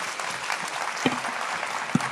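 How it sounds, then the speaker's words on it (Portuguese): An audience at a congress applauding in thanks to God, a steady wash of many clapping hands with a couple of sharper louder claps standing out near the middle and end. "Vamos dar uma salva de palmas,"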